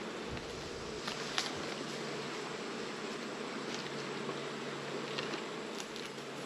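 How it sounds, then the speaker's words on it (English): Honeybees humming steadily during a hive inspection, a continuous close buzzing drone with faint light rustles and no pauses. "And the bees are looking really strong."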